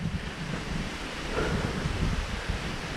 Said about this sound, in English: It sure is windy today.